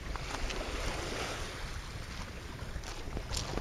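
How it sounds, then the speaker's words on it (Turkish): Sea waves wash steadily onto a beach at Karaot in Fethiye on a warm late-October day, a continuous broadband surf roar with light wind, nearby and without talk. "Evet, deniz sesiyle beraber."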